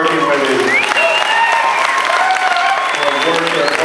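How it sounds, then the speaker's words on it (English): An audience applauds bodybuilding competitors on stage at a pro show in NOLA, 2015, with loud, dense clapping throughout and an announcer's voice carrying over it. "we can have one last applause for these hard-working women"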